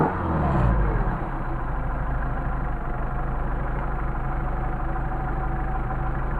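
A Mercedes 190SL engine fitted with Solex carburetors gets a short throttle blip that rises and falls in the first second, then settles into a steady, close, loud idle that runs on alone.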